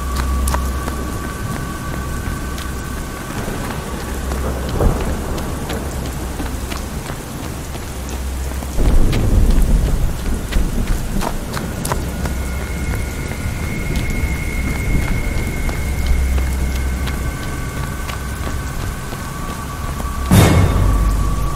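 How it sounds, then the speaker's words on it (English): Heavy wind and rainstorm, with dense rain hissing steadily throughout, gusting rumbles, and occasional sharp cracks and bursts standing out over the downpour. "And this wind and rain? That's suicidal."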